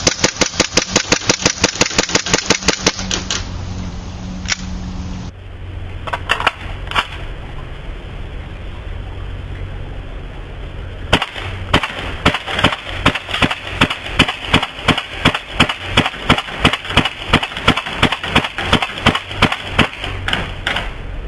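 An HFC Dark Hawk Glock-style gas airsoft pistol fires in rapid bursts of sharp, loud cracks, with a fast string first, scattered single shots after a pause, then a long steady run of close shots.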